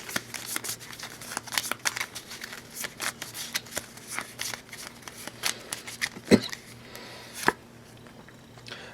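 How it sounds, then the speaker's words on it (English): A deck of cards for the Shadows of Brimstone board game is shuffled nearby in a long, busy run of crisp riffling and flicking, ending with a couple of sharper taps as the cards settle. "we will again give the scavenged deck a shuffle"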